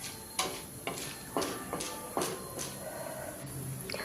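Chana dal frying in a pan until crispy, with a faint steady sizzle under repeated light clinks and scrapes of a utensil stirring at a loose, uneven rhythm.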